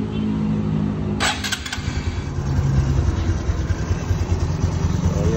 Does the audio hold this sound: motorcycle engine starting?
yes